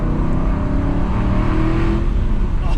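A 2008 Aston Martin V8 Vantage engine revs steadily while the car drives on a country road, a loud continuous deep rumble heard from close by with no speech over it.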